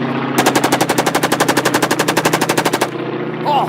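A rapid burst of machine-gun fire from a stage play's sound effects, about thirty evenly spaced loud shots in under three seconds that start and stop abruptly, with a voice just after.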